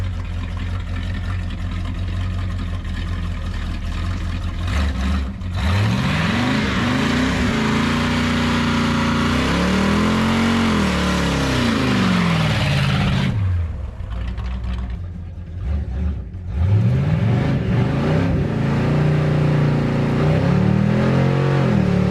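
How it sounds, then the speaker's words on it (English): A crew cab Cutlass revs hard on a back road in two long, loud runs for a burnout, the engine pitch sweeping up and down, with a short quieter gap between them. "Do a little smoker here."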